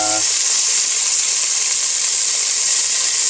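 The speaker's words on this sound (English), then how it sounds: "we've got the peppers frying" Steady, loud sizzling of jalapeño peppers frying in hot oil, a dense continuous crackle with no pauses.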